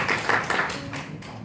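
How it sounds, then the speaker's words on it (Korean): Brief burst of audience clapping at a golf championship press conference in a hotel ballroom, welcoming an introduced guest; dense, fairly close clapping that starts strong and thins out within about a second. "소개할 때마다 여러분 좀 박수를 보내주시면 좋겠습니다"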